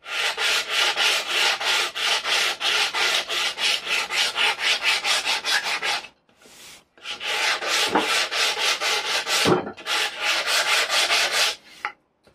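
In a woodworking workshop, wood is sanded by hand with a block wrapped in a leftover strip of wide-belt sander paper, making fast, even back-and-forth rasping strokes up close. The rubbing pauses briefly twice before resuming.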